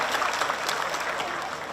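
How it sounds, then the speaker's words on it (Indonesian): Applause from a university event audience for alumni and sponsors, a brief burst of many hands clapping at moderate volume that holds steady and then tapers slightly. "Kita beri tepuk tangan buat alumni dan juga sponsor."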